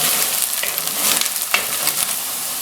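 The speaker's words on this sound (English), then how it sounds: "It is quite important to saute and lightly brown the onions for any smooth kind of curry sauce." Onions sautéing and browning in hot oil for a lamb and potato curry, a steady loud sizzle with occasional crackles and a stir scrape near the end, no voices.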